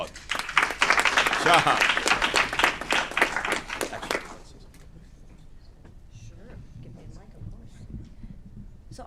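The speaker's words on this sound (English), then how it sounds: "Let's give him another round of applause." Applause rises from the audience at a committee of the whole meeting, loud and steady for about four seconds before fading out, with a voice speaking over the clapping and more talk after it dies down.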